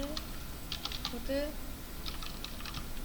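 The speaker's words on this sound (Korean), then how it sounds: "키보드를 누를 때" Computer keyboard keys pressed in a scattering of sharp clicks, some single and some in quick clusters, while someone talks over them.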